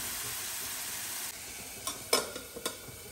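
Chopped garlic sautés in a pan until golden for a spicy prawn curry, giving a steady soft sizzle with a few light scrapes and taps of stirring near the end.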